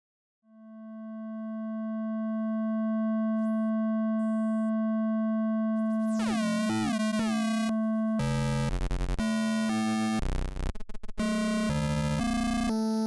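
A sustained synth tone swells in and holds steady, then Mela's digital distortion modules (clipper, degrader, rectifier) modulate it into warbling sweeps and harsh, stuttering, gritty bursts that chop and crunch in uneven steps, loud and alone.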